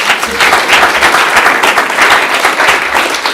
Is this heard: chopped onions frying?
no